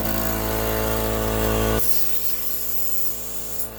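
Campbell Hausfeld air compressor switched on and running, a loud, steady motor drone with hiss that abruptly drops to a quieter steady running tone partway through, close by and with no talk.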